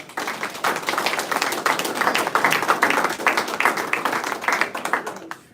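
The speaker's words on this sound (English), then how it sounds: "Let's give him a round of applause." A crowd gives a round of applause for a sheriff at a public launch event on fighting family violence, a dense, steady wash of clapping that holds at an even level before trailing off.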